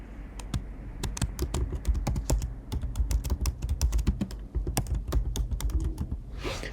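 Rapid, irregular keystrokes on a computer keyboard while entering text during app development, close and clear, with short pauses between bursts and no talking.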